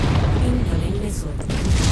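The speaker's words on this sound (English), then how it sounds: "Receiving heavy fire." Heavy weapons fire and explosions in the MechWarrior 5: Mercenaries video game, a dense loud barrage of booms and rumbling blasts that runs continuously without pause.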